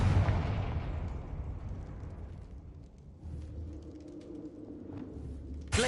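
The Confringo fire spell in Hogwarts Legacy lands as a loud booming explosion that opens the moment and rumbles away over several seconds, followed by a second, smaller blast at the end.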